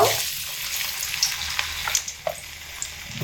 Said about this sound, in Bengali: প্রথমে পিস করে রাখা আলুগুলো তেলের মধ্যে দিয়ে ভেজে নেব